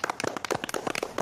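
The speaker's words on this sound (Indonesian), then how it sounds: "tepuk tangan dulu untuk kita semua" A small group clapping together in a podcast studio, a brisk close patter of handclaps lasting just over a second.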